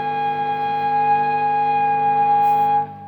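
A sustained, harmonically rich electric guitar chord rings out steadily with a gritty high-gain tone from a Bad Cat Lynx amp on channel 2, then cuts off abruptly near the end.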